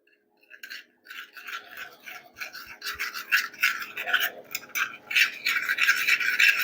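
A marinade of chili sauce, vinegar and spices is stirred by hand in a bowl, giving rapid wet scraping and rubbing strokes that grow louder and busier, close up with no talking.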